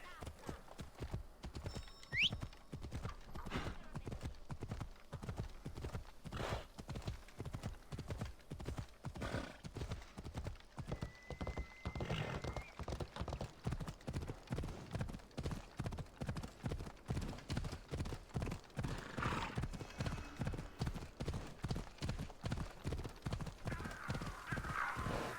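Horse hooves gallop at a fast, steady rhythm in Assassin's Creed Odyssey, the clip-clop continuous and prominent throughout, with a brief whinny near the start and occasional game sounds layered over the hoofbeats.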